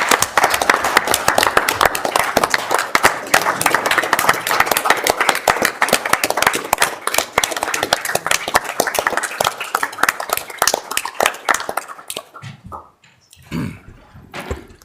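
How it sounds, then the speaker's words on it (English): Applause at a Rock Springs city council meeting, dense clapping from a seated crowd lasting about twelve seconds before thinning into a few scattered claps and quiet. "I just want to give them a round of applause"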